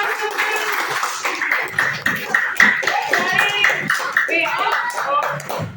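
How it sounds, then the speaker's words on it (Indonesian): Students clap together in an Indonesian elementary classroom after a group's triangle answer is judged correct, the applause busy and close while children's voices and chatter run through it. "Tepuk tangan yang keras dong"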